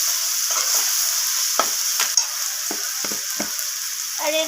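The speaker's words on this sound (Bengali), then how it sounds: "তো লবণটা দিয়ে আবারও কষিয়ে নিচ্ছি।" Chana paneer masala sautéed with salt in a pan: a steady close sizzle of frying with a series of sharp scraping strokes from a spatula stirring the mixture, no voices.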